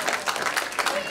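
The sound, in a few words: audience applause welcoming champions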